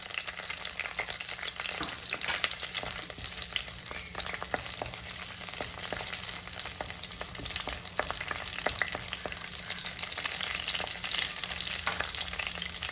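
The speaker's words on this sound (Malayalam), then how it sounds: "ഇഞ്ചി നന്നായിട്ട് മൂത്തതിന് ശേഷം ഒരു നാല് പച്ചമുളക് ഞാനിവിടെ അരിഞ്ഞു വെച്ചിട്ടുണ്ട് അത് ചേർത്ത് കൊടുക്കാം" Ginger and chopped green chillies fry in hot oil in a pan, a close, continuous sizzling crackle with dense popping and occasional stirring scrapes, with no speech over it.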